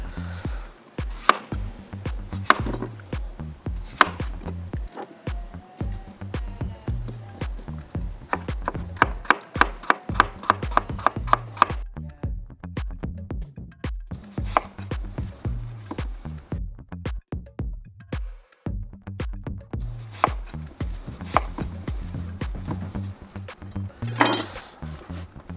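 A knife chops ingredients into cubes on a board, close by. Brisk rhythmic strikes come in bursts with short pauses between runs, and there is no talking.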